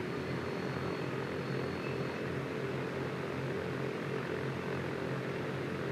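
A propeller airplane engine in the X-Plane flight simulator drones steadily at a constant, loud level while taxiing to park, with no pauses or voices.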